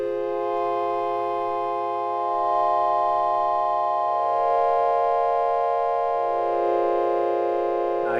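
A warm ambient synth pad run through a low pass filter with the highs cut, a steady sustained chord that swells gently and holds throughout, alone with no voices.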